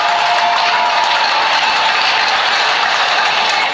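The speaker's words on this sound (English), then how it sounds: "the entire city breaks out in cheer and applause for all the healthcare workers" A New York City crowd cheers and applauds healthcare workers, a loud, unbroken roar of clapping and cheering that holds at full strength for nearly four seconds.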